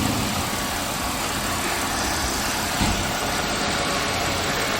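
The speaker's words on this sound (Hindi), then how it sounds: "गाड़ी इस वक्त स्टार्ट है।" Audi Q7 4.2 V-engine idling after a valve cover gasket replacement, a steady close rumble that holds even throughout, with no talk over it.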